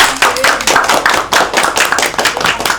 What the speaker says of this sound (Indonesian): Betul sekali, tepuk tangan.